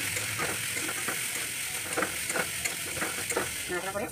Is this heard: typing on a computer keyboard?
no